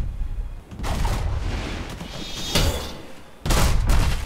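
Pirate ship cannons boom in a multiplayer naval battle in Unearned Bounty, with several heavy blasts spaced apart, each a loud burst followed by a rumbling decay.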